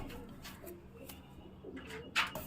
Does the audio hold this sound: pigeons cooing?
yes